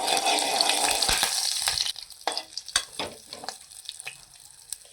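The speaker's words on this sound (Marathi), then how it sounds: "त्यांना व्यवस्थित आपल्याला तुपावर भाजून घ्यायचं आहे." Cinnamon, cardamom and cloves roast in hot ghee in a pan: a dense sizzle at first, then quieter frying broken by sharp clicks and scrapes of stirring close by.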